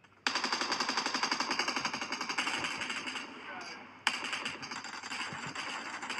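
Rapid automatic gunfire rattles in the BGMI battle royale game, a loud, fast, sustained burst that eases briefly and then resumes after a sharp crack.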